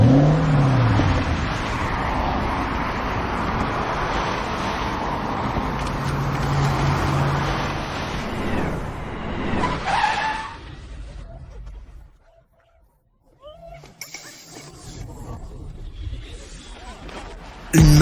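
A Maserati sports car drives up, its engine loud and close with a rising pass, then fading to near silence before more movement noise returns.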